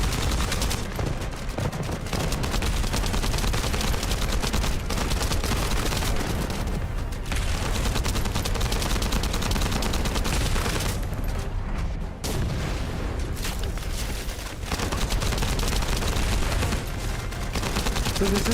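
Dense, continuous gunfire and explosive booms from the looter-shooter game The First Descendant, loud and sustained throughout with rapid automatic bursts, faint voice underneath.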